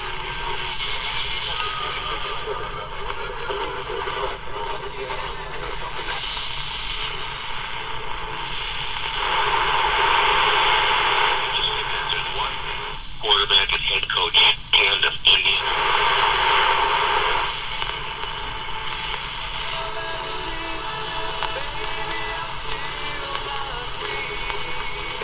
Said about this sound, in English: a faint country music station there